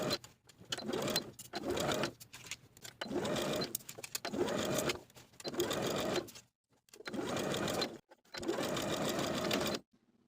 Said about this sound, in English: Then sew the facing to the neckline with a 3/8 inch seam allowance from center back all the way around to center back.